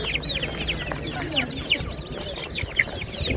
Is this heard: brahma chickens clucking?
yes